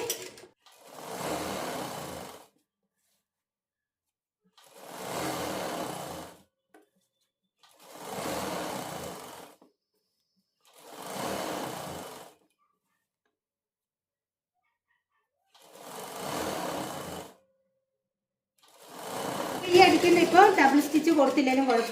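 A sewing machine stitches a pencil pant leg in five or six separate bursts of rapid whirring, each about two seconds long with quiet gaps between, close and clear.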